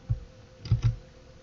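A computer keyboard gives three soft, close keystrokes, one alone and then a quick pair, while coordinates are typed into AutoCAD. The room is otherwise quiet.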